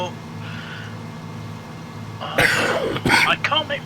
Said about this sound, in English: I'm just coughing and spluttering a lot